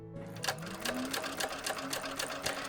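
A sewing machine stitches piping onto a bag at an eighth-inch seam, running in a steady rapid rhythm of needle strokes, close and fairly quiet, with no talking.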